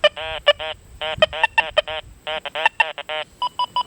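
An XP Deus 2 metal detector sounds repeated electronic signal tones, short bursts of buzzy beeps in irregular rhythm, loud and close with no talking.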